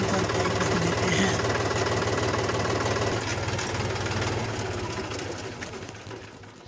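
A DIY mini tractor's engine idles steadily at a low, even putter through the whole stretch, fairly close, with faint birds cooing in the background and the level fading slightly toward the end.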